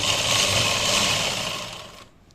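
A sewing machine runs steadily while stitching a hem, a continuous close whirring that holds for about two seconds and then stops abruptly, leaving near silence.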